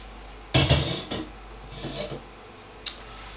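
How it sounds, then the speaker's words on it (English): A knife chops a large onion into small pieces on a board: a few separate knocks, the first loudest, then softer uneven cuts spaced over a few seconds and one sharp final tap. "Get yourself a large onion and chop it into small pieces"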